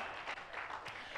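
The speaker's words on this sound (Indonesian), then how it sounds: "Beri tepuk tangan yang meriah buat Tuhan Yesus." A church congregation gives Jesus a warm round of applause, a steady wash of many hands clapping at a moderate distance throughout, with no clear speech.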